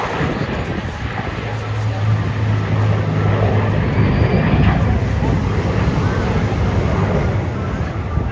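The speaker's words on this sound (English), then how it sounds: "PA-474 is only one of two of these iconic four-engine heavy bombers still airworthy" PA-474, an airworthy four-engine heavy bomber, flying past during a Battle of Britain memorial flypast, a loud, steady low engine drone that swells and fades slightly, with someone speaking over it.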